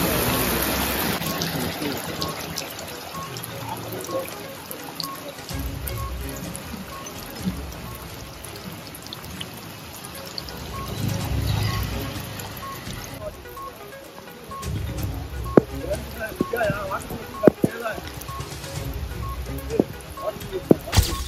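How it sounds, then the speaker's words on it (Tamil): Heavy rain falls steadily through the whole stretch, a dense close hiss with a few sharper drips toward the end, while a voice narrates over it. "பல்வேறு பகுதியில் திடீரென கருமேகங்கள் சூழ்ந்து இடியுடன் கனமழை பெய்தது"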